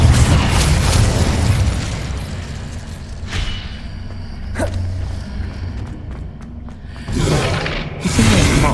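Fire-spell blasts from the Hogwarts Legacy video game burst out in loud booming whooshes, first a heavy rumbling stretch, then quieter creaks and pops, and two sharp fiery bursts near the end.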